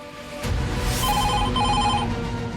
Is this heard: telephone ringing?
yes